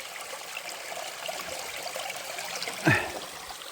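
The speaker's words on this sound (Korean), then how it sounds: "이 계곡 물소리만 들어도 진짜 시원하죠." A mountain valley stream flows with a steady gentle trickle and soft babble, close by and unbroken, with one brief louder splash or knock near the end.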